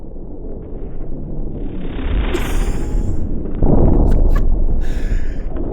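A Soldier's rocket explosion from a high bomb in Team Fortress 2: a loud rushing roar and whoosh building to a heavy blast, with brief sharp clanks and noise bursts, and no talking.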